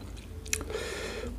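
Close, wet chewing of bucket-style shrimp with sauce poured over, a soft squishy bite and crunch standing out near the middle, heard alone without talk.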